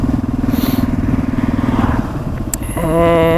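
A motorcycle engine shifts down while riding in cold weather, a steady close-up chugging idle giving way to a sharper rising rev with a brief squeal near the end.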